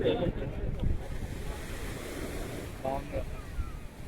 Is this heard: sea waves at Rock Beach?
yes